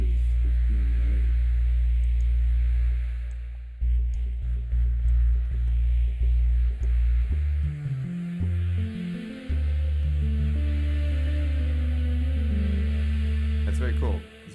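A low, steady, humming synth tone from the Absynth 5 software synthesizer, generated from a sine wave and shaped by filter-like processing. It drones throughout and shifts pitch partway through.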